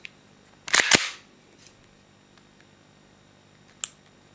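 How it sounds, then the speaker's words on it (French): A Walther PPQ airsoft pistol, made by VFC/Umarex, being fired: one sharp, close mechanical snap of the trigger and shot, followed by a fainter click a few seconds later in a quiet room. "il faut vraiment appuyer au milieu pour que ça parte"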